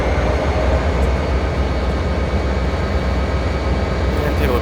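Steady, loud rumble of a train engine under throttle in Train Simulator 2013, running continuously without breaks, a constant low drone with rail noise.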